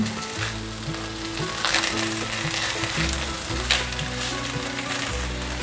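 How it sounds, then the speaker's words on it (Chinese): Food pan-frying under a covered lid, a steady close sizzle and crackle running throughout with no talk, as the water in the pan cooks off and the pieces brown. "还没有很上色，再继续让它煎"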